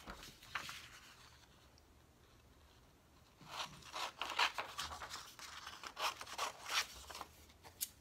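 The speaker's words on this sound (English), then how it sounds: "I'm going to go ahead and cut them." Scissors snipping through gel medium pieces, a few quiet crisp cuts and rustles spaced out, soft and close with pauses between them.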